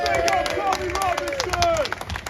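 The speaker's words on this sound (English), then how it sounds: "give yourself a round of applause" A crowd at an outdoor protest against digital ID on Downing Street in London applauds in a quick burst of clapping, with a voice speaking over it.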